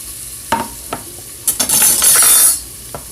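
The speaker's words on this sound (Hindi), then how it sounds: "जो मैंने तेल गर्म होने के लिए रखा था, तो ये मैं इसमें इसको तलूँगी प्याज को" Chopped onion dropped into hot oil for an Eid daal dish, giving a few sharp clatters and stirring sounds, then a loud bright sizzle that swells for about a second before easing, with no talking.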